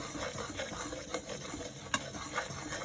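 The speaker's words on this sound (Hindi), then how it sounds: "थोड़ा सा हम इसको ड्राई फ्रूट्स के साथ भी भूनेंगे।" Besan is roasted with dry fruits in a pan, a soft continuous scraping stir with faint sizzle and occasional light clinks of the spoon against the pan, close and without talk.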